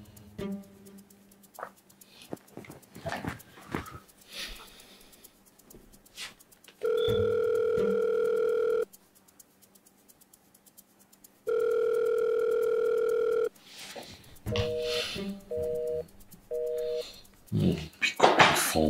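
A telephone ringback tone sounds in two long, steady, loud buzzes while someone is calling, followed by three short beeps, with speech, background noise and animal sounds around them.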